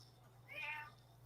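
An American long-haired cat gives a single faint meow indoors, short and quiet against a low background hum.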